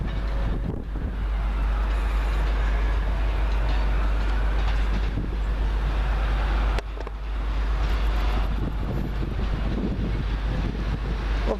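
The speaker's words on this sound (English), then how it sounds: "This one will come in to terminate from Leeds for Northern Rail." A Northern Rail train from Leeds pulls into Carlisle station, a steady broadband rumble of wheels and motors lasting throughout, with wind buffeting the microphone and a brief dip midway.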